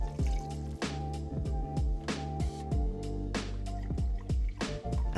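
Low sodium beef broth pours into an Instant Pot for chili, giving a continuous glugging, dripping stream with repeated plopping pulses, close and steady throughout without talk.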